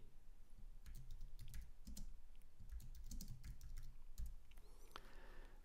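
Fast, even clicking of keys on a computer keyboard, quiet and close, typed in short bursts with no voices.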